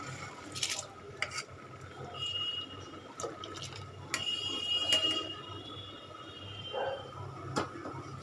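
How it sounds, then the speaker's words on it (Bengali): Washed rice and lentils are tipped into a pot of boiling water for khichuri, giving faint splashes, soft clinks and a quiet bubbling hiss in a still kitchen. "দেখো আমি কিন্তু এর মধ্যে চাল ডালটা দিয়ে দেবো।"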